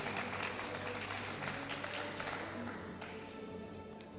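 Steady applause from an audience at a graduation ceremony, dense and continuous clapping at moderate distance with no voices standing out.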